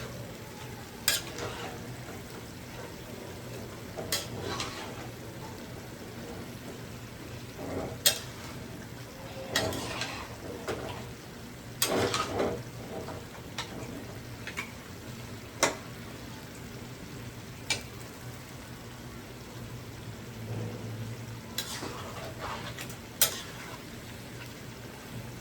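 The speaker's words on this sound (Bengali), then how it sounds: "গোশতটা ভালো করে একটু মিক্স করে নেব।" Meat fries quietly in a pan while a spoon stirs it, with a faint steady sizzle broken by sharp, irregular scrapes and clinks of the utensil against the pan.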